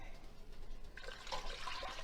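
Water pouring into a cooking pot, four cups for grits, a soft splashing stream that starts about halfway through and runs steadily at moderate level.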